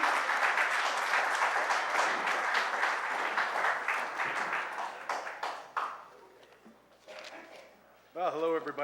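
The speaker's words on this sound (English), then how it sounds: "give him a big round of applause" Warm applause from an audience at the 2018 Norman Northstars awards ceremony, loud clapping that gradually thins out and fades over several seconds before a voice starts speaking at the end.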